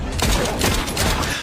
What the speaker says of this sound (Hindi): शाओया बिना एक सेकंड गंवाए सीधे गोली चला देती है